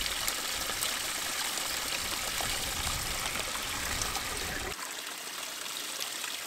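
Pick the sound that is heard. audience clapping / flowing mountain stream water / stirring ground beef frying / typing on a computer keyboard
flowing mountain stream water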